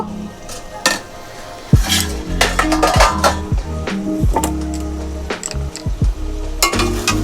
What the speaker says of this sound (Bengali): ঢাকা তুলে আমি একটু দেখে নেব